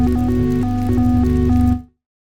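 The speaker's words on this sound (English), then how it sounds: "it gives us this really cool ambient melodic effect." A synth ambient arpeggiated pad with chord harmonization and oscillator jitter mode plays a steady melodic pattern of stepping notes over a sustained low drone, loud and alone, then cuts off sharply near the end.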